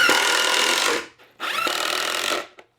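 A power drill drives 2-inch screws into a heavy-duty shop sawhorse in two loud, steady bursts of about a second each, separated by a short pause, with no talking.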